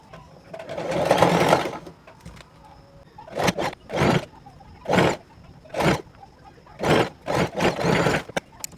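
A sewing machine stitches lace onto a puff sleeve in repeated short bursts, first a longer run, then several brief close rattling spurts separated by pauses.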